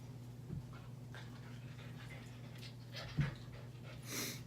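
A dog pants softly and steadily close by, with a faint whimpering note partway through, low and quiet with no talking.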